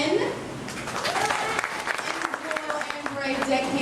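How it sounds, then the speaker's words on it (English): A crowd applauds steadily at a Walt Disney World ride show while a voice talks over the clapping. "let's give a nice round of applause for our Captain Ken"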